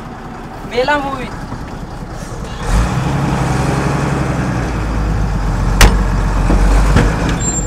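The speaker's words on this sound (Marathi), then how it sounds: "कोणाचा ट्रक आहे?" A truck engine starts rumbling loudly at close range and keeps running as a steady low drone, with a sharp hiss or knock partway through; people talk before and over it.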